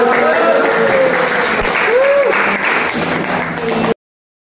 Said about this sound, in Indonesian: Kelompok 1 tepuk tangan dulu dong.